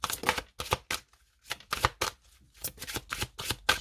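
Tarot cards are cut and shuffled in a quick run of crisp, close riffling and slapping bursts, separated by short pauses, with no talking.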